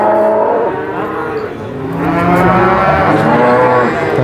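Cattle at the Purwantoro cattle market in the morning give long, loud, overlapping moos that rise and fall, with a steady crowd-and-market hum beneath.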